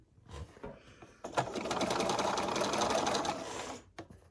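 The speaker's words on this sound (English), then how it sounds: "Now this time I'm going to start sewing from that outside corner to the inside corner." A sewing machine stitches a quilt block from the outside corner to the inside corner: a few handling clicks, then a close, steady whirring run of rapid stitching for about two and a half seconds before stopping.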